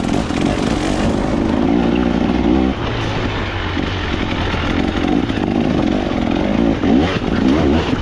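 A KTM dirt bike engine runs loud and close throughout a trail ride on the Akamas terrain, with a continuous rough roar that rises and falls as the throttle opens and eases, without any talk.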